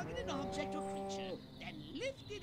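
Cows mooing in the video game Destroy All Humans!, one long, loud, drawn-out moo followed by shorter bellows, set against game background noise.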